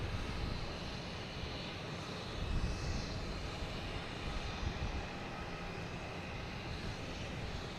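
Austrian Airlines airliner taking off at Boston Logan, a steady broadband jet roar held at an even level throughout, slightly swelling near the middle, with no voices.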